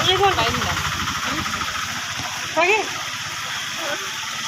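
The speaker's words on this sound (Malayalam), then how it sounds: "കനാൽ തുറന്നു വിട്ടുന്ന സമയം" Water gushes through an opened canal at the British bridge in Palakkad, a loud, steady rush that fills the whole stretch while people's voices rise over it now and then.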